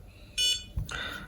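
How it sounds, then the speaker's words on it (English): An Elecrow Crowbot BOLT robot car gives two short electronic beeps, the second slightly longer, clear and close against a quiet background. "beep,"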